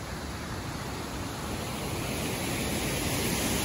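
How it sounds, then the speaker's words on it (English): Waterfall at Sensation Gorge roars as a steady, dense rush of falling water, loud and constant with no talking. "That's the second waterfall which we'll go down to, and we'll be able to photograph that one."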